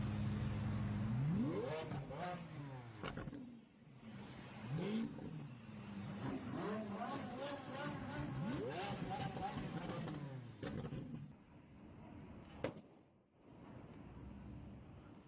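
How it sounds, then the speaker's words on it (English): Car engines rev hard again and again in a rev battle, pitch rising and falling in sweeping surges, with a sharp pop near the end and a voice talking over it. "Oh, a rev battle"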